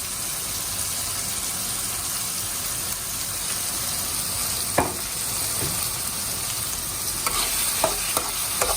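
Ground turmeric, chili powder, roasted cumin, fennel, poppy seed and pepper sautéing in a pan for chicken gravy, a continuous sizzle with occasional sharp stirring scrapes and spoon taps near the end.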